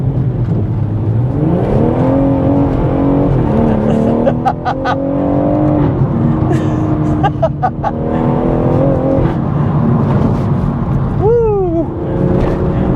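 A modified 460 bhp BMW M140i Shadow Edition hot hatch accelerating hard, engine note climbing loudly through the revs with a brief dip at a gear change, then holding high, with crackles and a sharp whine near the end.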